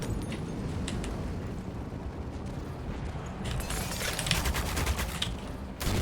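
Dense, sustained gunfire in the game Half-Life 2 MMod, a continuous clatter of rapid automatic shots and bursts layered together, loud and close throughout with no pauses.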